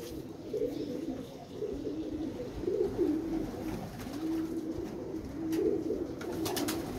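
A black pigeon coos in a repeated low, rolling pattern, several soft phrases close by over quiet background hiss, with a few faint clicks near the end.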